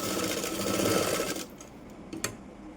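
A sewing machine stitches a blouse hook belt in a fast, steady whirring run that stops abruptly halfway, followed by a few short clicks and bursts.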